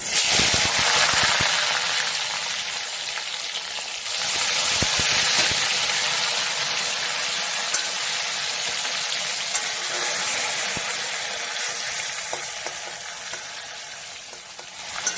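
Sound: onions frying in hot oil

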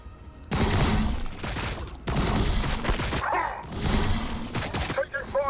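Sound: gunfire in the video game Warhammer 40,000: Battlesector

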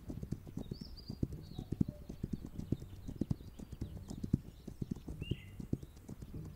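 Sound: horse hooves from the video game This Land Is My Land

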